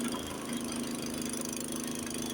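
A Honda snowblower engine drones loudly and continuously while straining under load, with a rough mid-pitched chug and no talking.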